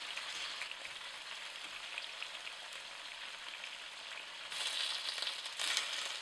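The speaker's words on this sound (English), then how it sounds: "You heard the sizzling and the sound." Food pieces lowered one at a time into hot oil sizzle and crackle steadily: a continuous fine, hissing spatter, fairly quiet and close, briefly growing louder near the end with no voices.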